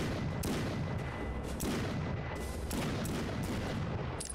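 Rapid gunfire in the first-person shooter game Brutal State, a dense run of repeated loud shots and booms with steady sharp bursts and no pause across the whole stretch.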